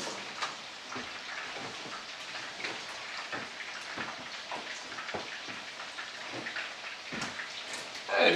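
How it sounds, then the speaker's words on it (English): Tap water runs steadily while hands are rinsed in a home kitchen, a constant splashing patter with small uneven spatters, rising a little louder at the very end. "Just gonna rinse off my hands."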